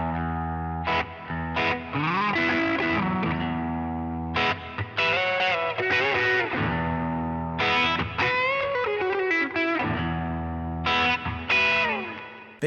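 Electric guitar played through an Analogman King of Tone overdrive pedal, crunchy distorted chords and sustained notes with lead phrases, loud and close, separated by brief silent gaps.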